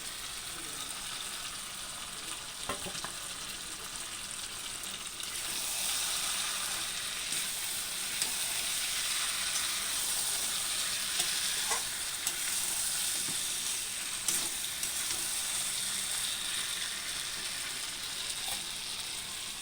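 Onions fry for a chicken dish in a pan, giving a steady soft sizzle throughout with occasional faint stirring clicks, fairly quiet and without talk.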